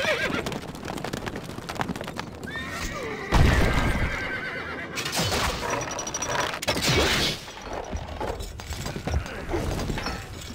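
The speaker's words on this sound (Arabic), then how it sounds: "الفرس تعدو." A horse in the video game Stronghold Crusader gallops with rapid clip-clop hoofbeats and gives a loud whinny, heard among game sound effects including a crash, with no talking.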